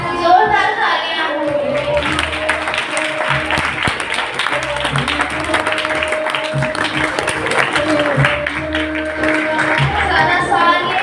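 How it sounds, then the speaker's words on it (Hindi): A crowd of mothers and children at a family gathering breaks into loud, sustained applause that fills the room, mixed with voices and a faint tonal background throughout. "जोरदार तालियां।"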